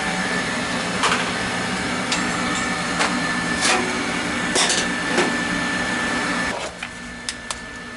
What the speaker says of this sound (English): So we'll get the printer, we'll print it out,